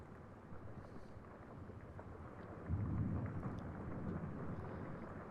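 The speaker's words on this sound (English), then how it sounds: "Thunderstorm, rain pouring." A thunderstorm with pouring rain: a steady wash of rain under a low rumble that swells partway through, faint and distant, with no talking.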